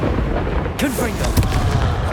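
A Confringo fire spell blast in the Hogwarts Legacy video game, a sudden loud burst with a whooshing sweep about a third of the way in, rising out of dense, constant game noise.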